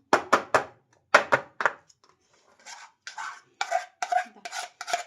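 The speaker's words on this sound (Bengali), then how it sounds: "এবার কেকটা ডিমটার মধ্যে ভালো করে একটু নাড়িয়ে নেব" Cake batter with egg being stirred in a bowl, heard as sharp rasping scrapes in quick bursts, first a fast run of strokes, a pause, then slower rubbing swirls, close and fairly loud with no voices.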